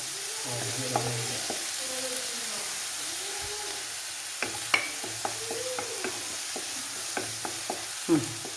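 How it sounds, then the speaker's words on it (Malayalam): Sliced onions go into a hot pan for chicken perattu and fry with a steady, soft sizzle, while a spoon stirs and scrapes against the pan with intermittent clinks; no talking. "ചൂടാകുമ്പോൾ നമുക്ക് സവാള ഇട്ട് കൊടുക്കാം"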